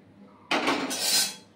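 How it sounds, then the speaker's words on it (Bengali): Fried mung dal is scooped from the pan into a bowl, with a short burst of metal spoon scraping and clinking against cookware lasting about a second, fairly close. "দেখুন, ডাল ভাজা হয়ে গেছে। আমি নামিয়ে নিচ্ছি একটা বাটিতে।"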